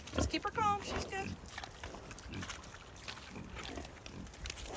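A female pig is coaxed down an alley, giving a few grunts and squeals up front, then shuffling and low movement noise with faint background voices.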